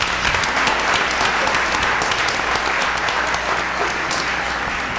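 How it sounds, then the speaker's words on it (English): A board of education meeting audience applauds, producing steady, dense clapping from a sizable crowd, loud and even throughout with no break or speech. "let's give these 3 a round of applause"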